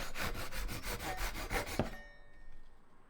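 Pallet wood plank having its rough live edge sawn off by hand, with a steady back-and-forth rasp of strokes for about two seconds, close and loud, ending abruptly into near silence.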